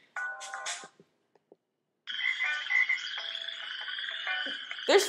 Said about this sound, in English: There's frogs in the background of that one.